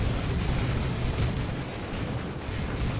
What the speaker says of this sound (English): Grenade launchers doing some work here.